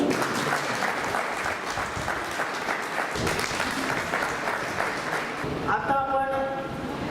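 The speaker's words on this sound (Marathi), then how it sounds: "पुन्हा टाळ्या वाजवा." An audience at a village workshop on a declining sex ratio claps loudly in a sustained burst of applause, dense and close throughout, with voices mixed in and a few tonal beeps near the end.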